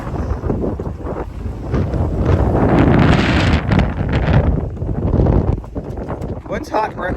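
Strong, gusty wind of about 20 knots buffets the microphone aboard the sailing ship Spirit of South Carolina near Charleston's jetties, a loud, continuous roar that swells and eases, with people talking over it.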